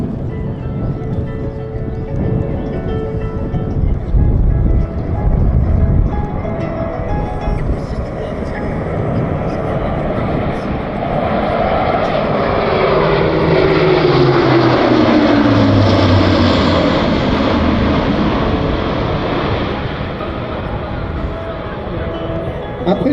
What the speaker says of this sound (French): notre Atlas va effectuer un court virage train sorti et l'équipage va effectuer une remise de gaz